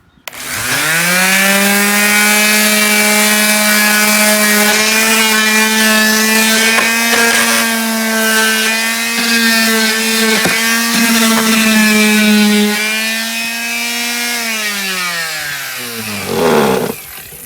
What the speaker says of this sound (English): I'm using this Black & Decker sanding machine